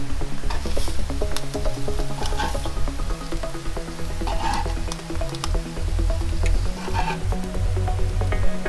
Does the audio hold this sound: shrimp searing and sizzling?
yes